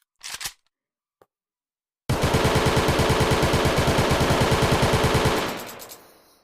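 Automatic gunfire at a VRChat shooting range rattles in one long rapid burst of evenly spaced shots, loud and close, after a brief shot or two and a pause, then fades out.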